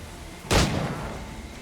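A single pistol shot in a pirate video game: one loud, booming crack followed by a short rumbling decay over quiet background ambience.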